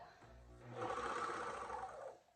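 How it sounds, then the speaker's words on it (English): A Juki MO1000 air-threading serger sewing machine runs in a short, fairly quiet steady whir that starts softly and swells briefly before fading. "first thing I noticed is it's pretty quiet for a serger."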